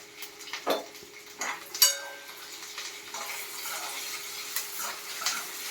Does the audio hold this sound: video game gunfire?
no